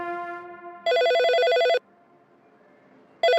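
A telephone rings at a police station in a Hindi action drama film, giving loud, close electronic trills in long bursts separated by a quieter gap, with no voices.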